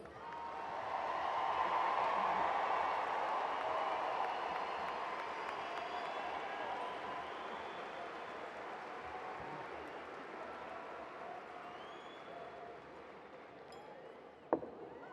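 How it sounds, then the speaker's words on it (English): A commencement crowd claps for graduates, a broad wash of applause that swells early and then slowly fades, heard from a distance with no talking. "Please join me in another round of applause for these graduates."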